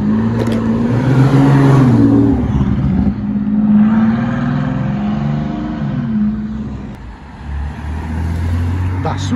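A Toyota Supra sports car pulls away from a car show with a loud, close engine rumble and brief revving, while onlookers talk nearby.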